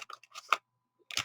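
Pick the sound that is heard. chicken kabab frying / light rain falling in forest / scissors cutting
scissors cutting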